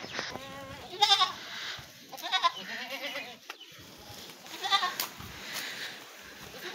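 A white male goat on a farm bleats several times in short wavering calls, fairly close, over a steady background of rustling farmyard noise.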